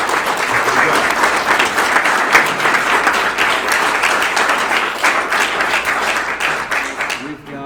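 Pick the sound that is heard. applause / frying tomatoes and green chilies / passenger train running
applause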